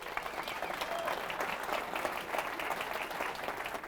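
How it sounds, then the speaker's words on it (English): An audience applauds at a conversation event honoring two legends, a steady, moderately distant wash of many hands clapping that holds evenly throughout. "Give them a round of applause."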